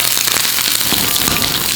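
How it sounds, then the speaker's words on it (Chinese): Loud, dense sizzling and spattering crackle continuously as a marbled sleeper goby fish fries in a pan of hot oil up close. "锅热倒油，同样的鱼也给它下锅煎一下"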